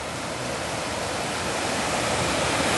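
A river rushes beside a walking path through an old quarry on the Ingleton Waterfalls Trail in the Yorkshire Dales, a loud, steady, close wash of flowing water with no voices.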